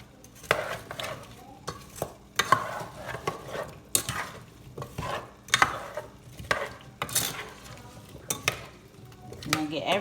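A spoon scraping and clacking in a pot as seasoning of salt and accent salt is stirred into a vegan curry, irregular repeated knocks and scrapes at close range.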